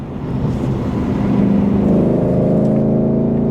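A Ford Mustang Dark Horse V8 revs on a downshift into fourth gear and its engine note climbs into a steady, rising drone heard from inside the car. No one speaks.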